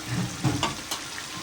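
Paneer cubes cooked with spices in a pan: a short burst of close sizzling and frying crackle with a stir or scrape, moderately loud, with no voices.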